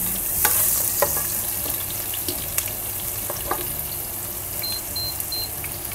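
Chopped onion sizzles and crackles steadily in a hot pan while it is stirred, cooking for chicken majboos. The frying is close and continuous, with occasional scrapes and a few faint beeps.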